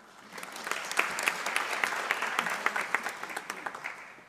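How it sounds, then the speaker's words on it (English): An audience at the Africa eWeek opening session applauds panelists, a steady round of clapping from a full room that swells and then tapers off over a few seconds. "Let's give them a better round of applause, please."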